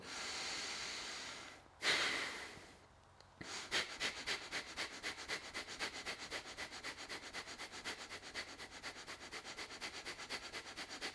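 Slow breathing during a relaxation breathing exercise after a full-body strength warm-up, with one loud inhale and then a long run of quick, rhythmic, close breaths that continue steadily to the end.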